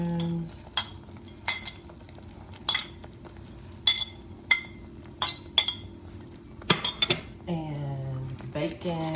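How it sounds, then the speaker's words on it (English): Sautéed mushrooms and vegetables added to an omelette in a pan, with repeated sharp clinks of a metal utensil against the pan and a few scraping stirs, close and fairly loud. "Going to add my sauteed veggies, my mushrooms,"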